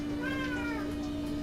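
A house cat gives a single drawn-out meow, moderately loud over a steady hum and background noise, with no talking.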